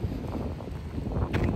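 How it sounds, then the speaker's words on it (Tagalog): Late-afternoon wind gusts outdoors near a tennis court, making a continuous low rumble with buffeting on the microphone and a brief higher gust near the end, with no speech. "medyo mahangin na ho ang ating klima ngayon"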